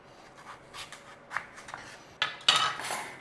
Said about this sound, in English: we want to be slicing up our apples any which way you want